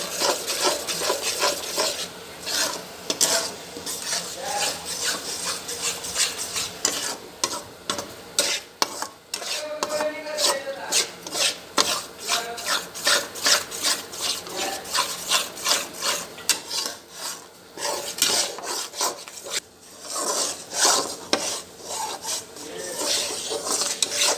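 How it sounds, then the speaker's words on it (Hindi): Gram flour roasting in ghee in a pan for besan halwa, stirred steadily with a spoon, giving a continuous close scraping and rubbing rasp with a light sizzle and no voices. "घी में हमने बेसन डाल दिया, अभी हम भूनेंगे।"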